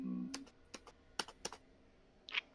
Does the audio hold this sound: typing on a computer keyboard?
yes